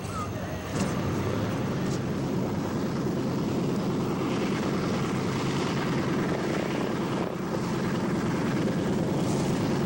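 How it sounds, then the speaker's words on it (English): A C-47B military transport, the military version of the DC-3, runs its piston propeller engines in a steady, loud droning roar that stays constant throughout with the deep throb of the props. "Right behind me is the C-47B, a military transport version of the McDonnell Douglas DC-3."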